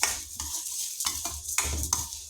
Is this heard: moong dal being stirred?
yes